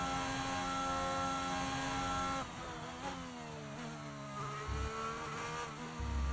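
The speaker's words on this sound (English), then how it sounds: "let's see the Ferrari engine. It sounds much better." A Ferrari Formula 1 engine in a racing video game, a loud steady high-pitched howl that drops and shifts pitch partway through, then climbs again with gear changes.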